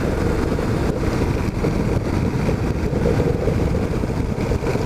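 Honda NC700XD motorcycle cruising along the Russell Richard Parkway, a constant low engine hum buried in strong wind buffeting, steady and loud throughout without speech.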